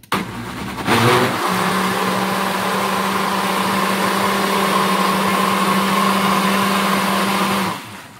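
A kitchen blender churns thick Brazilian cheese bread batter in a steady, loud motor whir that runs continuously for about seven seconds, with a quick start and stop at either end and no talking.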